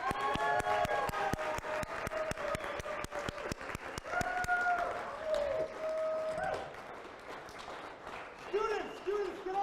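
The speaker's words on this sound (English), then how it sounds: "One more round of applause for them" Audience applause for students at a coding bootcamp capstone showcase, a dense steady clapping that fills the whole stretch, with voices talking loudly over it.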